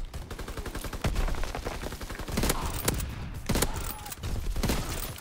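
Rapid automatic gunfire bursts aimed at a target in a video game, a dense rattling stream of shots with a few sharper louder cracks, continuous and close.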